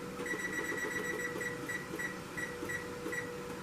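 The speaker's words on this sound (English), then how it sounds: "I'm going to set my timer" Kitchen timer beeping in a series of short, evenly spaced pips while being set, over a low steady hum in a kitchen where asparagus jars are boiling.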